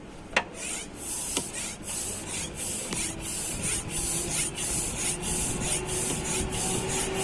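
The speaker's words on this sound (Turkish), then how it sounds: "Bak şimdi pompalayacağım." Hydraulic power steering fluid being pumped out of a car's steering system, giving a steady series of hissing, squirting spurts in an even rhythm, close and moderately loud, with a couple of sharper knocks near the start.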